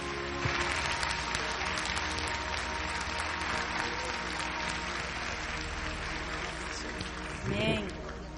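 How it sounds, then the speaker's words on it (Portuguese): A church congregation at a women's congress applauds, a dense steady wash of clapping filling the hall under music, with a brief swell of voices near the end. "Então aplauda o Senhor, porque Ele merece o melhor da nossa vida."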